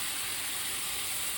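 Steak bites sizzle steadily on a hot Pit Boss griddle, a loud, continuous hiss and crackle of searing meat heard up close with no talking.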